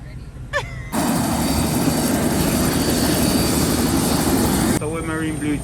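Helicopter on a coastal tour flight, a loud close rotor and engine roar with a rapid chopping pulse for several seconds, bracketed by brief faint voices before and after.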